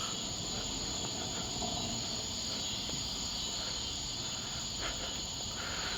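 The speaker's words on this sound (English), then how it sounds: "So, there's more Colombian trigs that I'm hearing right now." Colombian trig crickets keep up a steady, high, continuous chirring outdoors, fairly faint and unbroken, with no voices.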